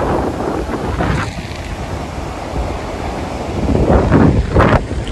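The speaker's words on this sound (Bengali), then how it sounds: "আর সমুদ্রের আওয়াজটা দেখো" Sea waves wash onto a beach under gusting wind that buffets the microphone, a rough rushing roar swelling louder toward the end.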